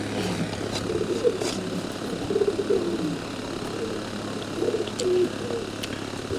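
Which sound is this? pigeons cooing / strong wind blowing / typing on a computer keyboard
pigeons cooing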